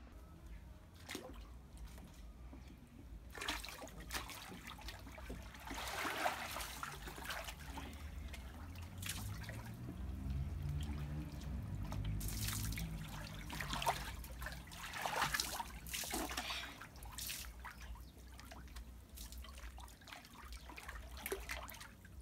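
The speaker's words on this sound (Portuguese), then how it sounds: "Meus amores, agora eu vou entrar na piscina." Someone wading into a chilly outdoor swimming pool, water sloshing, trickling and splashing continuously around the body, close and fairly steady with bursts of louder splashes.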